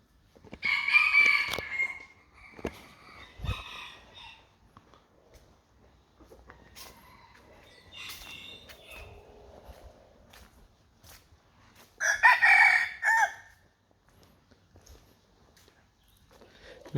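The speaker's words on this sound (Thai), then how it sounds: "ไก่ทุกคน ถี่ว่าเสียงไก่ขัน นี่มันทุกระยะเลย" Roosters at Wat Tham Khok Ma in Muang Sikhottabong, Laos, crow several times, a loud nearby call at the start and another around the middle, with fainter crowing and clucks in between across a quiet outdoor setting.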